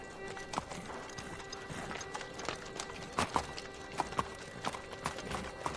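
Horse hooves clip-clop in an uneven walking rhythm, each hit sharp and fairly close, over a steady background hum with an occasional faint whinny.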